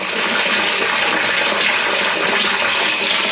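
A newly plumbed en suite toilet in a DIY loft conversion flushes with a steady, loud rush of water that runs unbroken and close throughout, with no talk.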